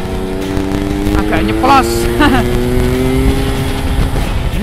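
Yamaha RX-King motorcycle with standard engine and stock exhaust, a steady two-stroke drone idling and revving on a mountain road, loud and close while someone talks over it.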